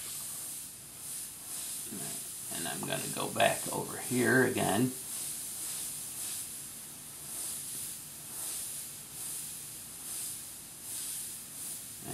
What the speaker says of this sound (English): I'm going to go back to my airbrush